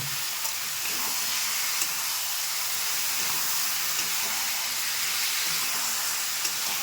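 Spice paste fries in a pan for a morola fish curry, giving a steady sizzle and hiss heard close with no talk.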